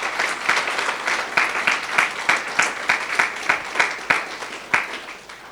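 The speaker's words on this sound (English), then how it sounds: "So let's give them a round of applause." A valedictory function audience gives a round of applause, with a few listeners clapping in a clear, regular rhythm, nearby and moderately loud.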